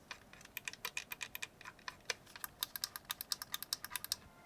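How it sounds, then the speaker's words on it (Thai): A Pulsar X2N gaming mouse clicks rapidly in quick, crisp bursts, dozens of sharp close clicks in an uneven spamming rhythm with no talk. "ตัวนี้ใช้แรงไม่เยอะคลิกไวมาก สแปมได้รัวมาก"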